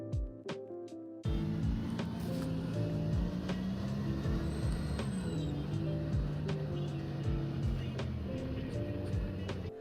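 A bus rumbles along during a ride in the Star Stable video game, its engine droning steadily with shifting pitch and light rattles, close and continuous after a brief quiet start.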